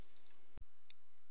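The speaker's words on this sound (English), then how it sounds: "and click OK" A single sharp computer mouse click, close and very brief, set in near silence with a faint second tick afterward.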